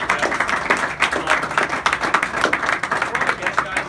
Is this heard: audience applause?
yes